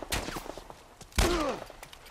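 Gunfire rings out during a fight in The Last of Us, with a quick spatter of shots followed by a single louder, closer blast that trails off, plus faint footsteps and movement around it.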